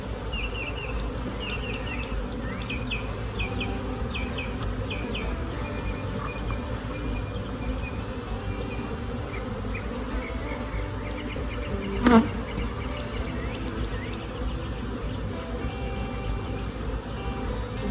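Honeybees buzz steadily and continuously inside an open hive during a beekeeping inspection. A dense, constant hum fills the whole stretch, with one brief louder knock partway through and no talking.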